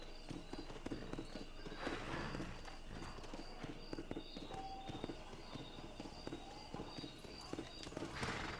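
Horse hooves clip-clopping at a steady walking rhythm in the Red Dead Redemption video game, moderately close, with someone talking over the footfalls throughout.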